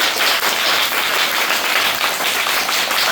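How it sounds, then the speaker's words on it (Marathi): A school audience claps to welcome a guest, a dense, steady round of applause from many hands filling the whole stretch without pause. "सगळ्यांनी चांगल्या प्रकारे टाळ्या वाजवून त्यांचं परत आपण स्वागत करायचंय"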